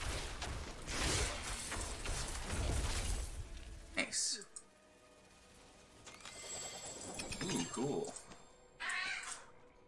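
A house cat meows and yowls indoors amid game sounds and a voice talking, with clattering bursts and a loud cry near the end.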